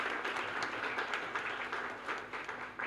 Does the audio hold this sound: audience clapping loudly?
yes